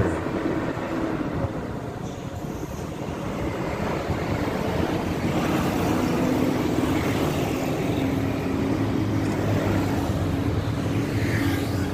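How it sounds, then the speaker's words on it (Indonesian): An Akas bus on the Surabaya–Jember route roars past on a road, a steady heavy rumble that swells and stays loud, with traffic noise around it. "Ada bus Akas jurusan Surabaya Jember."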